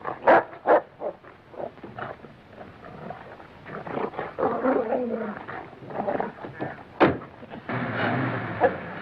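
A dog barks in sharp bursts amid growls and snarling, loud and close, with a scuffle and commotion building toward the end.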